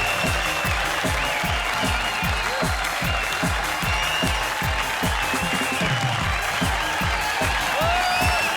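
Steady, enthusiastic applause from a TV comedy show studio audience, loud and sustained throughout, with rhythmic clapping and crowd noise.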